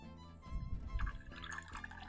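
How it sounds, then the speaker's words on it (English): Hot cider poured into a cup, a close, continuous liquid trickle and splash lasting about two seconds, loudest in the middle as the cup fills. "We're pouring Albert some cider."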